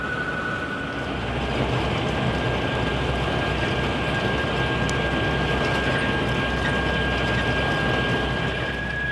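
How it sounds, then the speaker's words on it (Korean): A KTX high-speed train, an early-type 20-car set on the Seodaejeon service, runs at speed, heard as a steady dense rushing roar with a faint high whine, continuous and even throughout. "열차가 모처럼 고속으로 달립니다."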